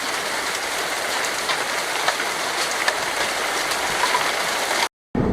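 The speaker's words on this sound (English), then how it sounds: "we're getting a little bit of rain now" Heavy rain falls in a steady, dense hiss with scattered sharper drops ticking through, close and continuous, cutting out briefly near the end before resuming.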